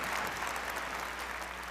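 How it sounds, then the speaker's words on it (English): Audience at a peace forum on Korean unification applauding, a steady dense patter of clapping from a roomful of people, moderately loud and unbroken. "Let's offer him one more round of welcome applause"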